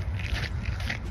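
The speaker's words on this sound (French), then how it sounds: "ce que vous entendez, c'est de la gadoue." Footsteps squelching through wet slush on a cold day in Paris, close and soft, a continuous wet crunching and scraping shuffle.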